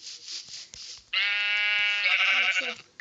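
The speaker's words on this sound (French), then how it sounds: "Toi, viens par là, petit mouton." A sheep in a video game bleats with a long, wavering cry after a brief noisy lead-in, loud and close with no talk over it.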